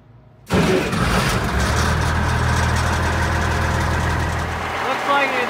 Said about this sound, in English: Okay, I'll start the engine up